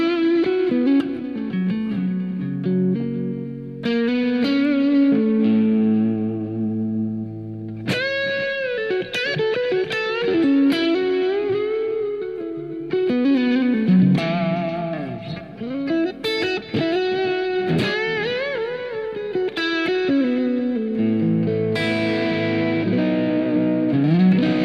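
An electric guitar plays through the Green Channel of an amplifier, a sustained overdriven tone with chords and melodic lines ringing out continuously and alone for about twenty-five seconds.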